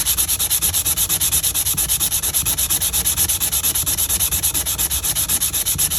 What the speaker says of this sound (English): Help lubricate it as we're polishing it. This is pretty coarse in the big scheme of things.